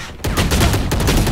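Gunfire in the Valorant tactical shooter, a sudden burst of rapid shots after a brief quiet moment, loud and close, with no talk over it.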